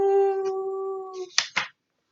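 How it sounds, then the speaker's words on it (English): An eerie howl, probably a dog or wolf, rises and then holds as a long, steady wailing tone in the distance. It ends with a couple of short, breathy sounds and then falls silent. "In the distance, he could hear an eerie howling."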